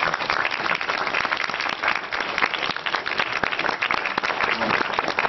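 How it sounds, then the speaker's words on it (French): An audience applauds loudly and continuously, a thick wash of many hands clapping without a break and no voices standing out. "Je voudrais juste qu'on l'applaudisse si ça vous dérange pas."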